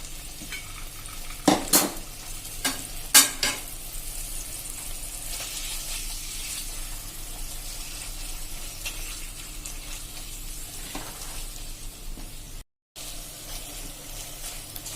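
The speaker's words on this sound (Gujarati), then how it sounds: "આ રીતે આપણે એને 2 થી 3 મિનિટ કન્ટિન્યુ ચલાવતા રહેશું." Strained hung curd for halwa being stirred in a pan over a low flame, with a few sharp utensil scrapes early on, then a steady soft stirring rustle throughout, close and moderately quiet.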